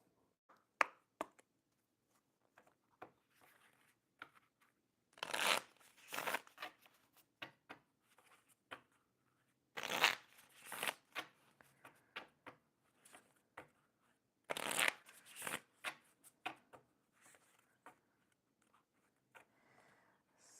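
Shuffling a deck of Pocket Animal Spirit oracle cards, three loud riffling bursts spaced about five seconds apart, with soft card handling taps and snaps between them, close and quiet otherwise.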